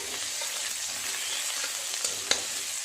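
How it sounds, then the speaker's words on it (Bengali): Crushed garlic cloves hit hot oil as tempering for a prawn curry. The sizzle is soft and continuous, with a sharper crackle or utensil tap near the end. "আমি রসুন ফোড়ন দিয়ে সামলাবো। 3-4টে রসুনের কোয়া থেতো করে নিয়েছি"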